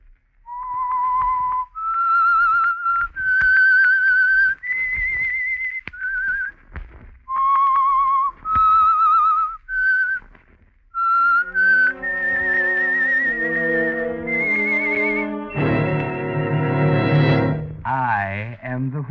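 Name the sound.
whistle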